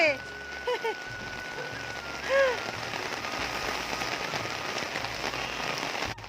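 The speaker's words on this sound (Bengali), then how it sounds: "স্নানের আগে বৃষ্টিতে ডোডুয়া ডোডুর পাপা বৃষ্টিতে ভিজছে" Steady rain pattering on surfaces throughout, with a few brief bird chirps and faint voices early on.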